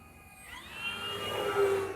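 An FMS F4U Corsair 1.7 m electric RC model plane flies overhead, a whirring motor whine that rises in pitch and grows louder as it sweeps past over a couple of seconds.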